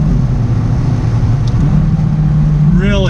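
A 2019 McLaren 570S Spider, a mid-engine supercar, drives with a steady low engine drone filling the cabin, then a rising whine as it revs up near the end.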